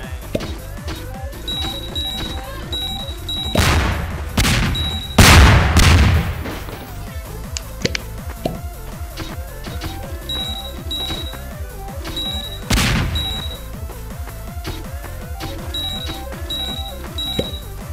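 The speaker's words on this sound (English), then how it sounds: "Oh, so many bombs." Bombs explode in the Garry's Mod game Melon Bomber: a cluster of loud booming blasts, then one more boom a few seconds later, over constant game noise and repeated electronic beeps.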